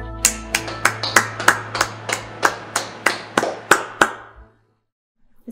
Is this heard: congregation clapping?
yes